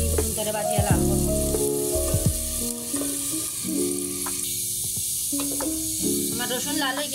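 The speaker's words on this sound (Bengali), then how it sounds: "এখন আমি রসুন ধরে বাজিয়া লাল করবো।" Garlic fries in a pan for a Sylheti-style khatta dish, a steady close sizzle and crackle that carries on under background music.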